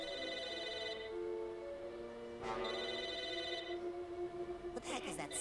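A telephone rings in the video game Psychonauts, a steady electronic trill over game music and ambience, repeating in bursts across the clip without talk.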